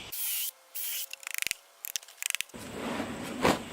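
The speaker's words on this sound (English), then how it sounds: "We pre-drill this." A power drill pre-drills holes in pallet wood: two short whirring bursts, a rapid run of ratcheting clicks, then a rougher grinding bite into the board, close and fairly quiet.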